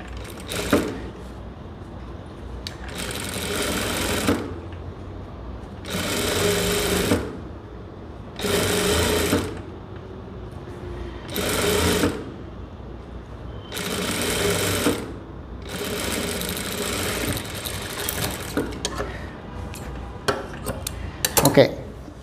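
A sewing machine stitching a blouse runs in repeated bursts of rapid mechanical whirring, each a few seconds long, separated by quiet pauses, close and fairly loud, with faint handling clatter between runs.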